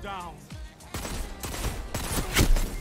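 Rapid gunfire from weapons in the online shooter Destiny, a dense run of sharp shots and impacts, louder toward the end, with a voice speaking alongside.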